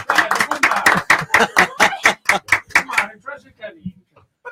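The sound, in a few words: people clapping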